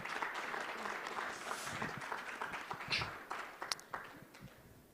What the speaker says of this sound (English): another loud of applause, please, for Yusuf